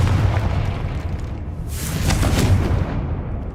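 Confringo blasting spell in Hogwarts Legacy: a heavy booming explosion with a deep rumble, then a bright crackling burst of debris midway, loud and close throughout.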